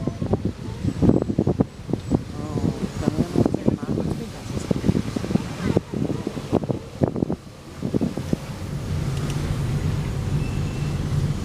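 Wind roaring and buffeting through an open window of a Suzuki car driving down the Serra do Rio do Rastro mountain road, a steady rushing under frequent talk from passengers, with a smoother constant whoosh near the end.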